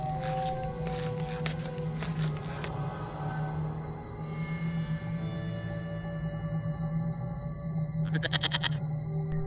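A cartoon goat bleats inside a cave, with quavering wavering cries near the start and again near the end over a continuous murky ambient background.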